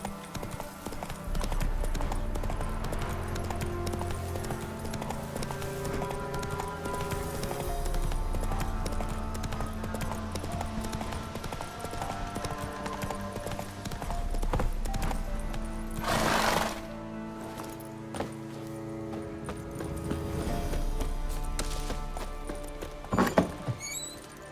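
Hooves of a galloping horse in The Witcher 3 drum in a steady clip-clop rhythm under game music, with a whinny and a short burst of louder movement near the end.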